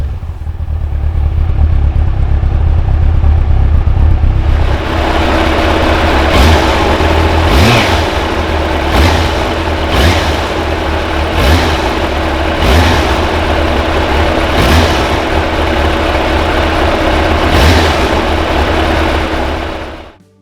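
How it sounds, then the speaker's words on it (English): 2002 Yamaha FZS1000 Fazer motorcycle fitted with race cans, engine running loud and close, idling then blipped in a series of sharp revs that rise and fall at a steady pace. "many of these Fazers get these race cans put on the back, which sound much more sportier than the original"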